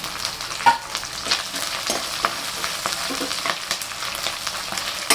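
Onions, ginger and curry leaves fry in a pan for upma, giving a steady broadband sizzle with scattered crackles and a few sharp pops, heard alone at a moderate close level.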